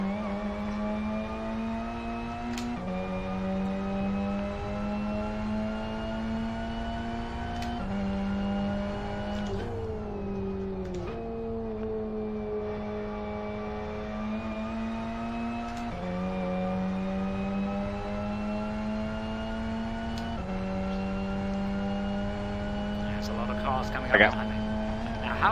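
Race car engine in the sim racing game Live For Speed, loud sustained revving with repeated gear shifts stepping the pitch up and down, continuous and close throughout.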